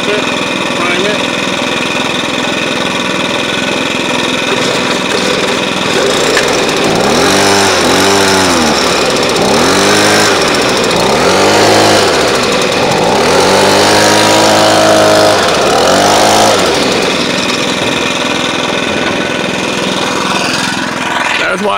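A Stihl BR 600 backpack blower engine is pull-started from cold, with repeated loud rhythmic rasping recoil pulls before the motor catches and runs at a steady, loud drone.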